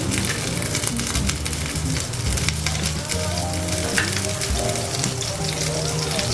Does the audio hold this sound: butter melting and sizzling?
yes